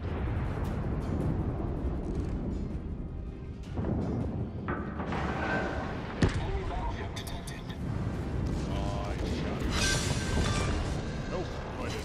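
An enemy destroyer blows up in a naval warfare video game: rumbling blasts and a sharp crack over continuous battle noise, with a voice talking throughout.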